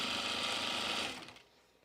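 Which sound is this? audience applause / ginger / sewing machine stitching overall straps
sewing machine stitching overall straps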